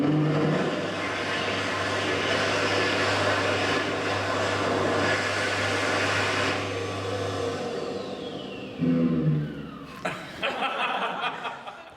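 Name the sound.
recording of a slightly broken hand dryer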